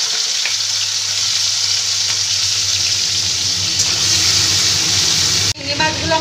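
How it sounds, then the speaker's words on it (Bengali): Prawns coated in salt and turmeric sizzle in hot oil in a pan for a Bengali stuffed pointed-gourd dish, a loud continuous close frying hiss that cuts off sharply near the end. "ওই তেলেই আমি চিংড়ি মাছগুলোকে ভেজে নিচ্ছি।"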